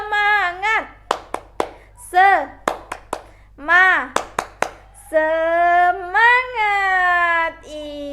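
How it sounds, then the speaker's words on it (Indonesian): Schoolchildren in a classroom do a rhythmic spirit clap, sharp hand claps landing in quick patterned bursts between their loud chanted voices, with a teacher leading. "kita mulai tepuk semangatnya"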